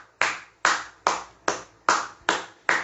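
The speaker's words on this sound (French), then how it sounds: "je vous applaudis." Slow, deliberate hand claps, seven sharp and evenly spaced, each ringing briefly in a room, with no voices, given in tribute to the youth of Goma.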